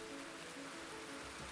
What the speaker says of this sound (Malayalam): സ്വന്തം പുതിയ വീട്ടിലിരുന്ന് ഈ മഴ ആസ്വദിക്കാൻ എന്ത് രസമാണ്.